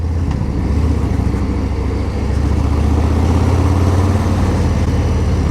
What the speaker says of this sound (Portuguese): A moto tá rodando lisinha